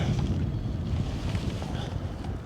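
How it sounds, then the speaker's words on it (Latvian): Wind blowing on the Lielupe river during a boat fishing competition, a loud continuous low rumble buffeting the microphone with no clear pauses. "Vējš sāk pūst."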